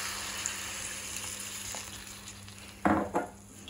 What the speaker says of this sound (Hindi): मेरे अंश को थोड़ी ग्रेवी चाहिए इसलिए मैं इसमें वाटर ऐड कर रही हूँ।